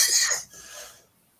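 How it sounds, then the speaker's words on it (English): A single short cough, close and fairly loud, breaks out at the start and fades quickly into quiet. "You're in fine company for coughing on air."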